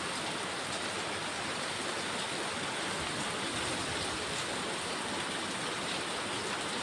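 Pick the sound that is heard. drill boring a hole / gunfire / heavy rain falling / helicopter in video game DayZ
heavy rain falling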